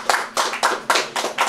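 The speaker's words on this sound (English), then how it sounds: "a round of applause for the great job she and her staff is doing" Steady rhythmic hand claps, about six close and fairly loud beats in a regular pulse, from an audience at a donation event at a senior citizens home.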